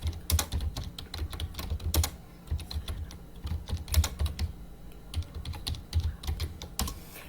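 Close, quiet typing on a computer keyboard, irregular bursts of light key clicks with brief pauses between words, heard alone without any talk.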